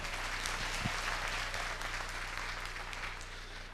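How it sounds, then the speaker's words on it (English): An audience at a 1993 awards and honorees ceremony applauds, a fairly soft, distant wash of many hands clapping that fades slightly toward the end, with no speech over it. "give yourselves a round of applause"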